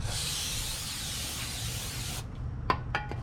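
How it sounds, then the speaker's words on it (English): Brake cleaner sprayed onto a coated brake rotor of a 2009 Honda, a steady close hiss of about two seconds that cuts off, followed by a few faint clicks. "I'm going to be cleaning my rotors with some brake clean"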